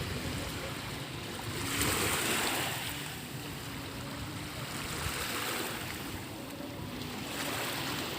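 Gentle sea waves wash in at the bay in Polillo, Quezon, a soft, continuous surf hiss that swells and recedes slowly under light wind.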